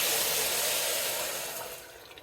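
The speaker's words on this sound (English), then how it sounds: "And then I'm just gonna cover this with water." Water pours steadily from a tap over borlotti beans in a pot, making a continuous broad hissing rush that tapers off toward the end.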